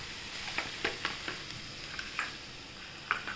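Washed cluster beans hiss and sizzle in a hot pan, a steady quiet frying crackle broken by small sharp pops, with no voices over it.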